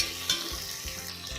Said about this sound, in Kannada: ಹಾಕ್ಕೊಂಡು ಗೋಲ್ಡನ್ ಕಲರ್ ಬರೋವರೆಗೆ ಚೆನ್ನಾಗಿ ಫ್ರೈ ಮಾಡ್ಕೊಳ್ಳಿ